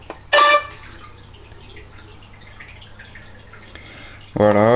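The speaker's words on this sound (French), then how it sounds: "C'est un bruit du détecteur de métaux." A recorded metal detector plays back two bursts of bright, tonal beeping: a short loud one near the start and another at the end. Quiet background hiss and faint rustling fill the gap between them.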